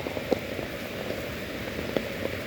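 Rain falls steadily on a soaked dirt path outdoors, making a constant close patter with occasional sharper drips standing out.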